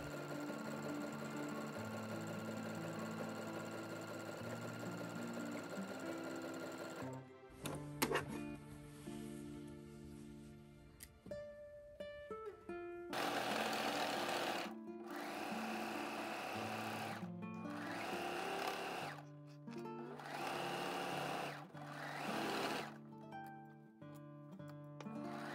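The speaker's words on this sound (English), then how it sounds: "And then I finished the edge with my serger." A serger overlocks the edge of pajama shorts in short, steady whirring bursts with brief pauses between them, following a quieter stretch that carries a steady tonal background.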